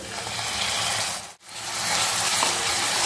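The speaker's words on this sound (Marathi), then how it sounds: "हे मस्त चांगलं असं परतून घ्यायचं. त्याचा कच्चा वास निघून जाईपर्यंत चांगलं परतून घ्यायचं." Ground masala paste frying with onions in a pan, a loud continuous sizzle close up with a brief dip as it is stirred.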